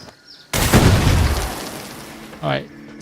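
An explosion in the video game Assassin's Creed Shadows bursts suddenly, loud and close, with a deep, heavy boom that rumbles and slowly fades, followed by a brief voice-like sound.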